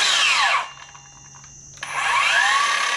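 A Metabo 18V drill on its silent setting spins with a high whine that winds down, drops to a quiet hum for about a second, then revs back up, close and alone.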